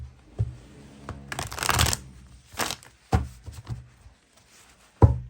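An old tarot deck being shuffled and cards drawn: close, papery riffling bursts and soft slaps of cards, separated by brief quiet gaps.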